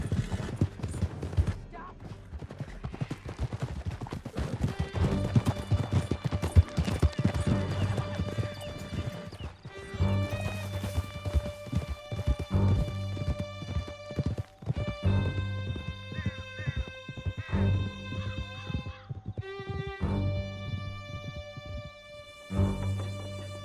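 Horses galloping in Red Dead Redemption 2 during a canyon escape, hoofbeats clip-clopping steadily with occasional neighs, crashes and a musical score, with people talking over parts of it.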